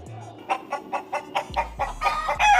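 A rooster clucks close by in quick, rhythmic bursts that grow louder and busier, with a voice heard faintly at the start.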